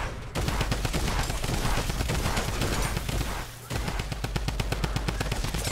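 A drum gun fires in a Horde Rush mode video game, a long, loud, dense automatic stream of rapid shots that breaks off briefly near the middle and then resumes.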